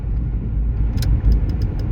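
A PT Cruiser car rumbles along from inside the cabin with a steady low engine drone, and a few faint ticking clicks come in toward the end.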